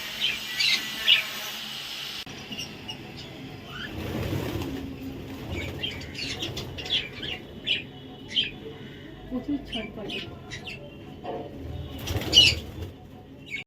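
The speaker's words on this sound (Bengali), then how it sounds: "এই হচ্ছে পাখিগুলো সব সারি সারি লাইন হয়ে বসে রয়েছে" Caged pigeons perch in a row, giving soft intermittent coos and brief bursts of wing flapping, with a person talking over them nearby.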